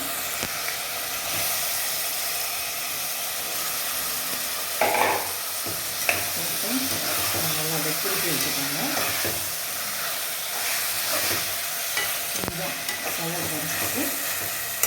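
Cut mutton pieces drop into a hot pan of sautéed masala and fry with a loud, continuous sizzle and hiss. A spoon scrapes and clanks against the pan now and then as the meat is stirred.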